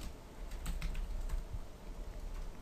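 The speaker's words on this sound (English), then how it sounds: "Now I'm going to type Seasons" Fingers type on a computer keyboard, a quick run of light clicks and taps, close and fairly quiet, with no voice over them.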